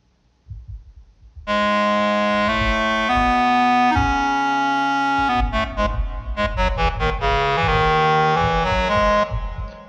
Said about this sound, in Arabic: نسمع هذه، مع ان هذه صوت الكلارنت.